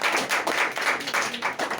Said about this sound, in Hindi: उत्तम जी के लिए जोरदार ताली होनी चाहिए